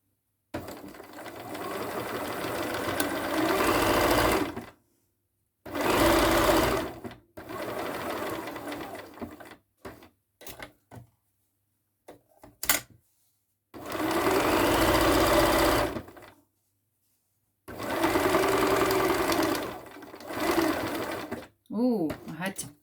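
A domestic sewing machine stitching a fabric potholder runs in several loud bursts of rapid whirring, separated by short pauses and a few brief clicks.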